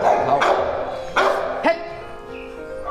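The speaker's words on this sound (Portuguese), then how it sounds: "Olha o barulho dos cachorros" Several dogs bark in scattered bursts, three sharp barks standing out over a continuous background of yapping and whining.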